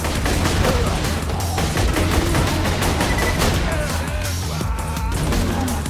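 Rapid, continuous pistol fire rattles loudly in the Borderlands 2 video game, dense overlapping shots with crashing impacts filling the whole stretch, game effects layered underneath.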